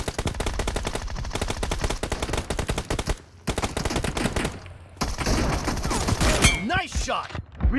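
Rapid bursts of M24 sniper rifle and automatic gunfire in a video game firefight, loud and close, with short pauses between volleys and shots trailing into echoes near the end.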